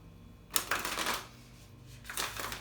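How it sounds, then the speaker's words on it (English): A deck of oracle cards being shuffled, two quiet bursts of riffling papery flutter close by, separated by a short pause. "if you're new to pulling cards, just give them a shuffle."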